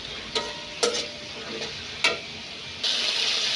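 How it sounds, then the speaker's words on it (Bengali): Spice masala for aloo dum frying in oil in a pan, a steady close sizzle broken by a few sharp scrapes of a spatula, the hiss swelling louder near the end. "এখন মশলাটা ভালো মতো কষানো পর্যন্ত অপেক্ষা করব, যতক্ষণ পর্যন্ত উপরের তেলটা ভেসে না উঠতেছে"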